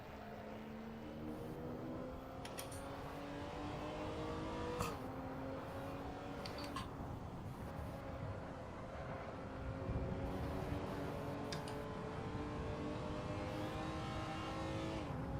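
A historic Ford Falcon touring car races around the Phillip Island circuit, its engine droning loudly and continuously from the cockpit, the pitch climbing steadily and dropping at each gear change.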